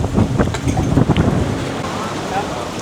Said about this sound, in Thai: ลมมาแล้วครับ ลมเริ่มแรงแล้ว